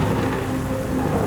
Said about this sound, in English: I was completely alone, except for the eerie sounds of the storm.